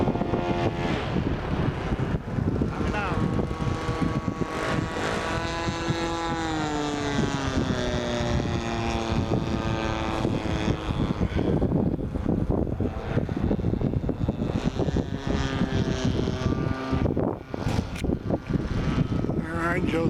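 A radio-controlled model B- bomber aircraft flies overhead, its engine drone steady and loud with pitch shifting as it banks and turns, buffeted by wind noise while someone talks over it throughout.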